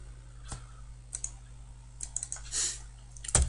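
Close, quiet mouse clicks, including a double click, mixed with a few keystrokes on a computer keyboard while drafting a site plan, sparse and irregular against a faint steady hum.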